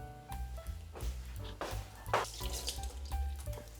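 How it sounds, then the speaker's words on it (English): Kitchen sink tap running as fish-smelling hands are washed, a close splashing stream with uneven gurgles and drips throughout, no voices. "my hands are very fishy. I need to go and wash them now."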